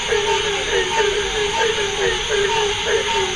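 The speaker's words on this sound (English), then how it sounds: "That is the sound of a cricket." A cricket chirps in steady repeated pulses, a run of bright rhythmic trills over a constant hissy background, fairly loud and with no voices.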